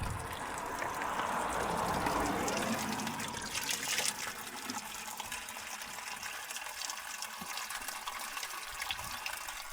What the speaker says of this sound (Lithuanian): reikia prisipilti gertuvę ir turėsim vandenuką